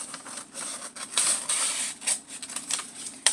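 Scissors cut along a drawn line on paper, making a close run of crisp snipping and rustling sounds in short uneven bursts, with no one talking.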